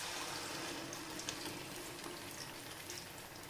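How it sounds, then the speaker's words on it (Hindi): Spice paste with cardamom frying for Lahori chole, a dense, steady sizzle and crackle filling the whole clip at close range without any talking. "तो अब इसको भूनते हैं"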